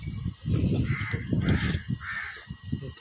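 Crows caw harshly while fighting a captured eagle: a close, loud flurry of overlapping caws in quick bursts.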